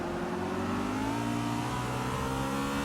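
V8 Supercar race car engines roar steadily during a circuit race, a loud continuous mid-pitched growl with rising harmonics as cars pass close by.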